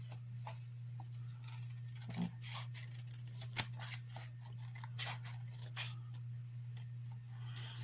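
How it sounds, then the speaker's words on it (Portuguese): Scissors cutting paper in a quiet room for a paper craft, with sparse, soft snips and small handling rustles spread over a steady low hum, no talking. "vamos cortar agora aqui"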